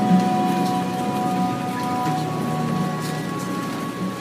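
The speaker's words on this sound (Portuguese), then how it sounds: "Escute a chuva" Rain falling steadily in a continuous soft wash with scattered drop patters, moderate and even throughout, with a faint sustained tonal hum beneath and no talking.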